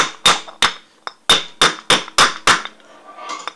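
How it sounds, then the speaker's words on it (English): Seven sharp metallic taps from a small ball peen hammer on an epee blade held in a vise ring out in a steady, slightly uneven rhythm, each with a short ringing decay, close and clear. "you can take this and your vise and a small ball peen hammer"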